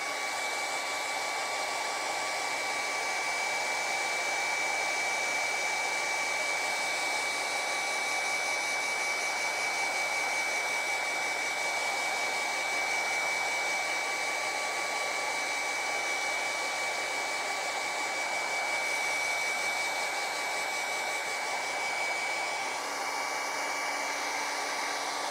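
Hair dryer blowing steadily on a watercolor painting, a continuous close, loud whoosh with a constant whine running unbroken for the whole stretch, no voices over it.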